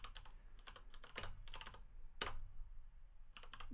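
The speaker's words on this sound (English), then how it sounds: "Sorry about my mechanical keyboard making all this noise." Rapid clacking keystrokes on a mechanical computer keyboard, close and fairly loud, in irregular bursts with a few sharp heavier key hits, no talking.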